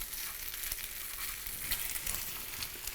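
Potato pancakes (latkes) fry in hot oil with a dense, steady sizzle and crackling splatter, close and constant throughout.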